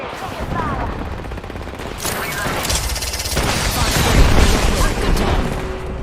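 Dense video game gunfire from a squad-based shooter crackles in overlapping bursts with booms throughout, growing louder toward the middle while voiced announcer-style game dialogue plays over it.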